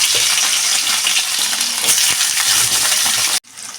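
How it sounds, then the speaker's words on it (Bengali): Paneer cubes sizzle and crackle loudly in hot oil in a Bengali home kitchen for spinach paneer, a close, continuous fry that cuts off abruptly near the end, with no voices. "তেলটা গরম হয়ে গেছে এবার আমি পনিরের টুকরোগুলো আস্তে আস্তে ছেড়ে দেব একটু হালকা করে ভেজে নেব"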